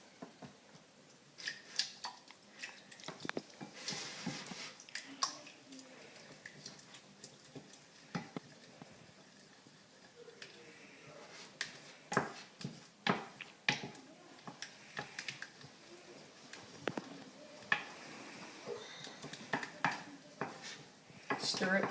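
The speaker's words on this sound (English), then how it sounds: "Then stir the mixture." Fudge mixture stirred in a bowl gives a run of quiet scraping and clinking strokes of a utensil against the bowl, irregular and close, growing busier and louder toward the end.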